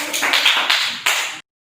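A classroom group gives a short burst of applause for a presenting team, several people clapping together in a dense patter that swells and then stops abruptly.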